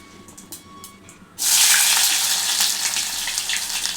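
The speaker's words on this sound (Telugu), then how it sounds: "ఇది కొంచెం మంచిగా వేగాలి ఉల్లిగడ్డ వేగినాక పచ్చిమిర్చి వేసుకుందాం" Sliced onions for red lentil dal drop into hot oil and burst into a loud, steady sizzle after a quiet start, frying continuously up close.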